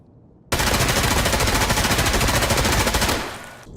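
Sustained automatic fire from an M4 rifle in the video game Escape from Tarkov, a loud, rapid, evenly spaced burst lasting about two and a half seconds before cutting off and tailing away.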